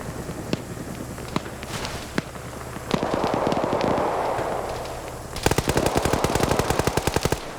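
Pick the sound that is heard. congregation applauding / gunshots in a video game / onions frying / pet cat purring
gunshots in a video game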